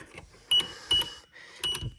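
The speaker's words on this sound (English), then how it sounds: "That beep is from this piezo buzzer, at least." A piezo buzzer in a fire alarm test setup gives short, sharp electronic beeps in quick bursts, heard close over faint background clicks and handling noise.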